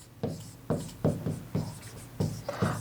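Quick, scratchy strokes of writing on a board during a Hindi grammar lesson, several crisp bursts in an uneven rhythm, close and distinct with no voice over them.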